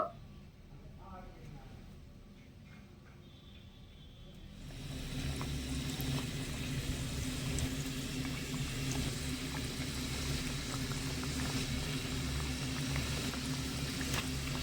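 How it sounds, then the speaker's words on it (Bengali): Semolina gujiya dumplings dropped one by one into medium-hot oil, a steady bubbling frying hiss that swells after a quieter start and continues evenly throughout. "এবারে এখান থেকে একটা একটা করে গুজিয়া নিয়ে আমি তেলের মধ্যে ছেড়ে দেব"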